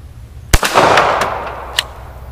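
A single sharp report from a Stallard Arms JS 9mm pistol, fired close and loud, followed by a rolling echo and a second fainter crack moments later.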